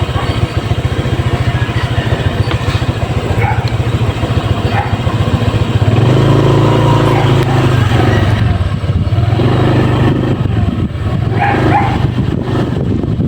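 A motorcycle engine idles steadily at a dairy farm in Sariaya, Quezon, its low continuous drone loud and close, with occasional dog-like barks and faint voices in the background.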